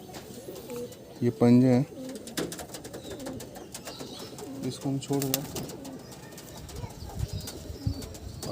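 A small, soft-bodied pigeon from a Howrah pigeon-flying loft, muddied by rain, gives a couple of short cooing bursts close by while someone talks over most of the scene.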